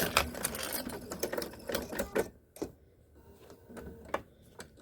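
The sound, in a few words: sewing machine back stitching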